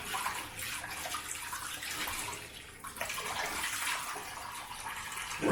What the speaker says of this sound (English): I'm just going to rinse off, empty out this, rinse off with some hot water.